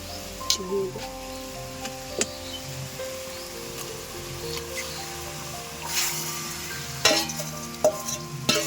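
Marinated chicken is stirred and fried with onions, a steady close sizzle broken by scraping stirs, while a voice talks over it and tonal music or hum runs underneath.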